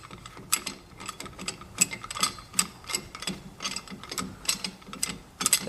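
A C-clamp is cranked down to push the brake caliper pistons back on a Toyota Sienna front brake, giving close, rhythmic ratcheting clicks and metallic scrapes turn after turn, with no talking.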